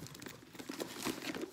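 Bank papers taken from a wallet being crumpled and handled, a quick series of dry crinkling rustles close up with no talking.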